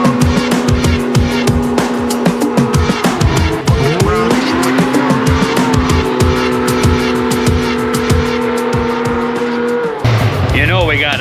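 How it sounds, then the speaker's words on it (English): A snowmobile revs hard in a burnout attempt, its engine howling steadily with a loud spinning, squealing roar of the track, while people talk over it near the end. "You know we got to see if it'll do a burnout."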